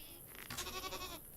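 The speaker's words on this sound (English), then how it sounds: "Someone is murdering a goat. That poor, poor animal." A goat in the video game Wild Terra 2 gives a single wavering bleat, fairly faint, heard over a quiet background.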